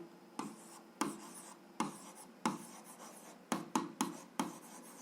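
A pen writes out an algebra solution by hand on paper, a series of short, close scratchy strokes in irregular bursts with brief pauses, quiet and without voices.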